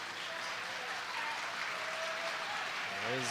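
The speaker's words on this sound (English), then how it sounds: "There's the cheering section student crowd on their feet for Appleton East" The student cheering section at an Appleton East high school basketball game claps and cheers in a steady, dense roar filling the gym, with a voice talking over it.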